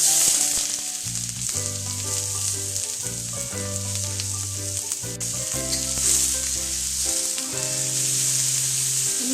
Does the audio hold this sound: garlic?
yes